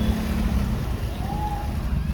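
Vehicles push through a flooded road in heavy rain in a Surat-area village, a close low rumbling wash of engine and water with a brief rising whine partway through.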